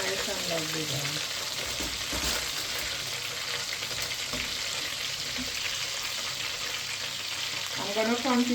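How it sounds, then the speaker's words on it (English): Chicken breast pieces deep fry in oil with a continuous close crackling sizzle, and a brief burst of bubbling flares up near the end. "I'm gonna continue frying the rest of the chicken"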